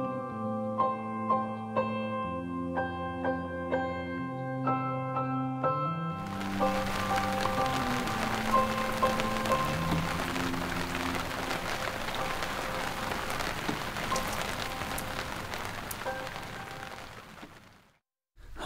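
Steady rain patters at a campsite in the Nevada backcountry, a dense even hiss that fills most of the clip after soft tonal music at the start, then cuts out near the end.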